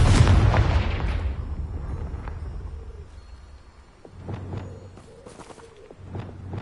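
A Confringo blast spell from Hogwarts Legacy erupts in a loud booming explosion that slowly fades, then two smaller bursts follow a few seconds later, with no voices over them.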